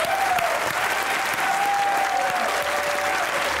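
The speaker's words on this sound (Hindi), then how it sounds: "आपकी भरपूर तालियों में ख़वातीन हज़रात" A studio audience at a Pakistani comedy talk show welcomes a guest with loud, continuous clapping that stays dense and even from start to finish.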